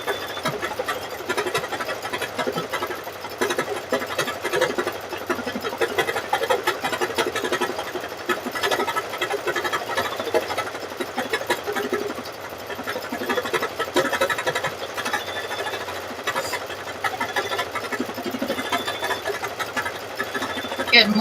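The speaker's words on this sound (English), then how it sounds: "It has now started to stitch out the bear on there." An embroidery machine stitches out a bear design onto fabric with backing, a steady, fairly loud mechanical whirring and rapid needle chatter running continuously throughout.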